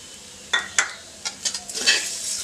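Coconut barfi mixture with sugar stirred in a pan, giving a few separate scraping strokes followed by a soft continuous sizzle, close and moderately loud with no talking.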